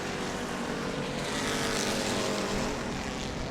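Crown Victoria stock cars race in a tight pack at New Smyrna, engines roaring loud and continuous with a steady, dense drone and no voices.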